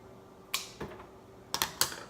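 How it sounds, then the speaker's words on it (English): A dead orchid root from a plant grown in full water culture is snipped off with sharp, dry clicks: one cut, a softer second, then a quick cluster of three close snips, near and clear over quiet. "I found a dead root here, and I'm just going to cut it off."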